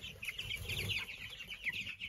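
Chickens clucking together in an enclosure, a steady busy chorus of overlapping clucks and chirps heard close and fairly loud, with no talk.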